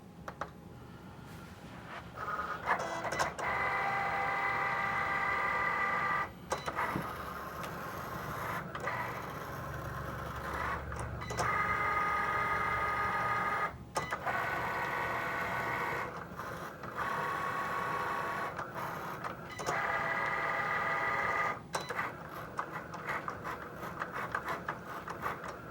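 A Cricut Explore cutting machine cuts fabric, its motorized whirring and ratcheting running steadily and loud, pausing briefly several times as the carriage changes direction, with no talking.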